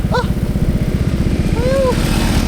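A motorcycle engine chugs loud and close in a steady pulsing drone from start to finish, with a couple of short voices calling over it.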